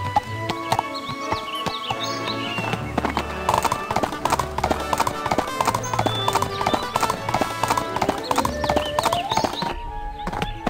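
Horse hooves clip-clop in a steady rhythm during riding in the Barbie Riding Club video game, with a whinny, bird chirps and light game music around it, and a voice speaking at times.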